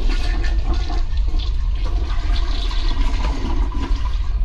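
A toilet flushes nearby, a loud rushing, gurgling surge of water that continues steadily for several seconds, with no voices over it.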